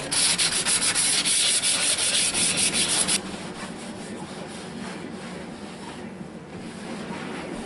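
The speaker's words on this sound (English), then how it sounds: "I'm out there right now sanding the bottom part." Sandpaper scrubs steadily over the underside of a wooden kitchen table at a cabin, loud and close for the first few seconds before easing into a quieter, softer rubbing.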